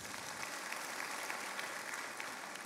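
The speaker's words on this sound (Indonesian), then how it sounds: "beri tepuk tangan buat Yesus" A church congregation claps for Jesus during a sermon, a continuous crowd applause heard faint and somewhat distant, steady throughout the short stretch without speech.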